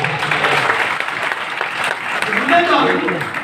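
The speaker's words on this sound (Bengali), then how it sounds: "জোরে একটা হাত তালি" Loud, sustained hand clapping from an audience at a Vestige meeting in a party center hall in Ashulia, Savar, continuing steadily for several seconds without a break.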